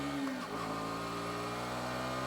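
A KTM 125 Duke single-cylinder motorcycle engine holds a steady, close, buzzing drone as the throttle opens, its pitch rising briefly and then staying high and level.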